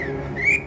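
A child blows a whistle at a train station in a video game, giving one short, shrill, rising tone over a low background hum.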